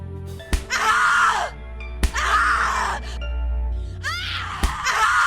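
A woman in the horror game The Cat Lady screams in long, loud, anguished bursts, three drawn-out wails separated by short gaps and punctuated by sharp impacts, over a low droning background.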